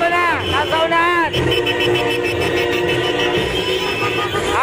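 Many car horns blare and honk together in overlapping bursts, loud and continuous, amid street noise at a crowded political caravan in La Union.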